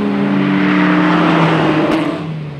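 A 1967 Nomad MK1 car drives gently with a steady mid-pitched engine hum held at even revs and heard close up, a short sharp knock near the end, and no talking.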